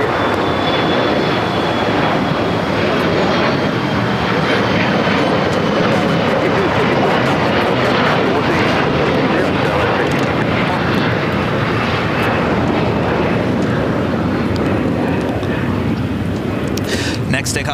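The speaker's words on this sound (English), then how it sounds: "Next takeoff is JetBlue Airways Flight 1700 heading to Fort Lauderdale, Florida." A JetBlue Airways Airbus A321 takes off at Los Angeles International Airport with a loud, constant engine roar and thrust rumble filling the whole stretch, close and powerful, with voices faintly under it.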